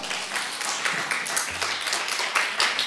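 A room full of people clapping steadily at a church family service, a dense patter of applause at moderate distance throughout.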